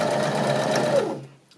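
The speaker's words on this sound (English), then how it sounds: "So I'm going to sew all the way around here" A sewing machine stitches a knit jersey neckband, a close, steady rapid whir lasting about a second before it slows and stops.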